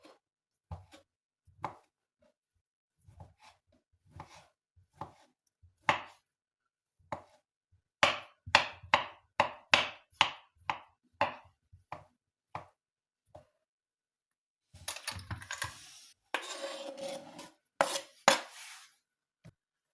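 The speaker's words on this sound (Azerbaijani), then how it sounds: "Kartofumuzu da bax belə bir neçə hissəyə bölüb" A knife chops potatoes into small pieces on a board for a crab salad, with crisp, evenly spaced close cuts followed by a faster burst of rapid chopping near the end.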